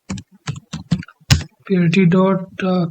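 Code being typed on a computer keyboard, a quick run of sharp key clicks at close range, followed by someone talking.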